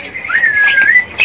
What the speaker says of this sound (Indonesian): Inilah penampakan dari burung jalak suren Jawa